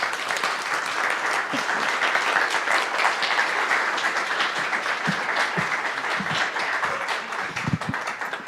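Applause from the congregation at a Sunday church service, steady and sustained, a dense wash of many hands clapping throughout, fairly close and even in level.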